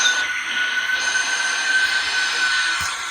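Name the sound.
subway train running, from a video game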